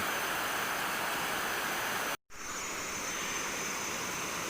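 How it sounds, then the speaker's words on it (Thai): A steady, loud rushing roar comes from a waterfall beside a durian orchard, a continuous broadband wash of falling water that drops out for an instant midway before resuming. "บรรยากาศน้ำตกกรานะคะ อยู่ริมสวนทุเรียนนะคะ"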